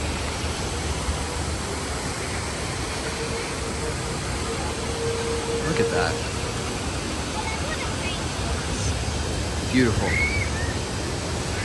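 Waterfall pouring down beside a quarry wall at an amusement park, a loud steady broadband rush filling the whole scene, with a person briefly speaking over it.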